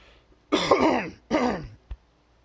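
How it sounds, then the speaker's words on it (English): A person clears their throat twice in rough, gravelly bursts, close up, followed by a brief small click. "Let me clear my throat here."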